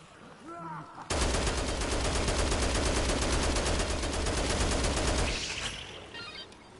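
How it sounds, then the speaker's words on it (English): Heavy machine gun fire from Chris's outfit in Dead Rising Deluxe Remaster, a loud sustained rapid burst lasting about four seconds before cutting off, with brief game sounds before and after. "Chris's outfit with the big-ass machine gun"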